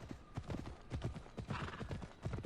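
Horse hooves clip-clop in the game Assassin's Creed Odyssey, a quick close rhythmic trot of dull thuds running steadily throughout with no voices.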